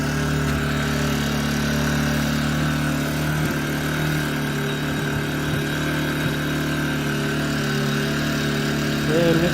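A Gentrax EC800i 800W inverter generator engine runs steadily and loudly, its continuous hum broken by a few irregular stumbles and knocks that suggest misfiring.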